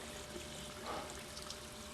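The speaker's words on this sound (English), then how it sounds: "Don't you just love running water?" Water from a tap runs in a steady, soft trickle, swirling into a tiny whirlpool below, close by and alone with no voices.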